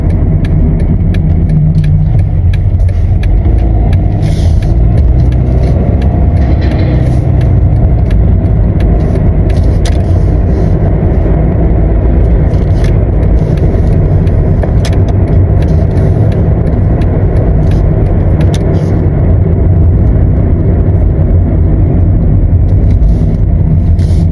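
Road traffic in New Zealand makes a loud, close, continuous car rumble with steady road and engine noise and no clear gaps between vehicles, lasting well over twenty seconds.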